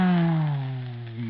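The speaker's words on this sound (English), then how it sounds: "the boomer makes a sound something like this." Bull roarer whirled on a cord as a sound effect in a 1938 old-time radio serial, producing one brief, droning hum that slides slowly downward in pitch, with no speech.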